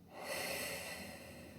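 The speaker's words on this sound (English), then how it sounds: "Sniff and blow out." A person breathing out forcefully through the mouth as part of a lung breathing exercise, one close, steady breath of rushing air lasting over a second, with no talking.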